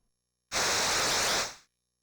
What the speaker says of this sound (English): Since we're hearing white noise, re-triggering the wave causes a cycling effect in the noise.